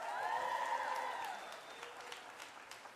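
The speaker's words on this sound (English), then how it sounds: "Give him a round of applause," Faint, brief applause from an audience at a live show, soft scattered clapping that fades quickly under a sustained tonal hum.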